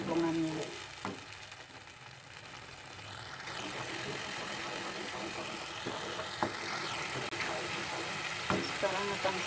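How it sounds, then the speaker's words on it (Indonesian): Spice paste sautéing in a pan for tom yum, a steady close sizzle and frying hiss running throughout with occasional stirring clicks and scrapes, no talking. "Tumis bumbu sampai harum dan matang, baru dimasukkan bahan cemplungannya."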